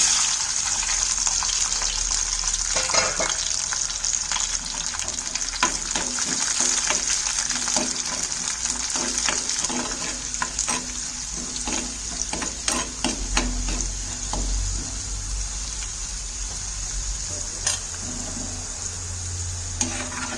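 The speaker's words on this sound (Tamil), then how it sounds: "அடுத்து நம்ம பூண்டு வதக்குறோம்." Garlic sautéing in a pan, with steady frying sizzle and intermittent scraping stirs throughout, close and continuous, no talking.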